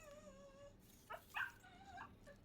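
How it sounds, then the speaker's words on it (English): Dog in the Destiny 2 video game giving a few soft whimpers and yips, quiet and close, after a faint tonal game hum fades out. "Pet the dog, because I always got to pet him at least once when I walk by."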